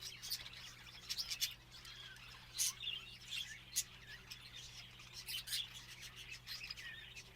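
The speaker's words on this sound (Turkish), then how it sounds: "dışarıda olan son grup kuşlarım da yavaş yavaş gelmeye başladılar." Pigeons returning to a loft, with scattered chirps and sharp wing-flap bursts close by over a quiet steady hum.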